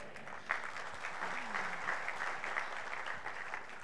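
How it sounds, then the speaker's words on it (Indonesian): A church congregation applauds during a sermon, a steady wash of many hands clapping at moderate distance that holds for several seconds, with faint voices mixed in. "kalau tepuk tangan itu berarti satu irama kita"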